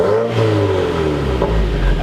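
A Subaru with an FA engine and a Corsa exhaust revs in a rising, sustained roar. The engine note climbs steadily and stays loud and close for the whole stretch, with a throaty drone and no talking over it.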